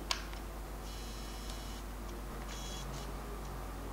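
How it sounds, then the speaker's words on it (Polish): Zoom lens motor of a Canon SX110 IS compact camera whirring faintly in two short bursts, with soft ticks and a quiet background hiss. "Przycisk zoom."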